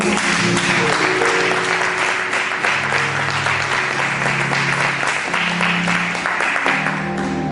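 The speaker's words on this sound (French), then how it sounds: "On acclame pour le Seigneur." An audience at a church conference applauding, dense sustained clapping from many hands filling the room at a steady loud level throughout.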